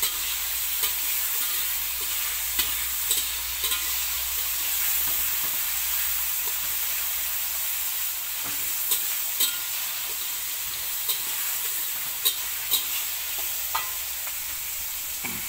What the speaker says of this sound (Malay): Tumis sehingga matang.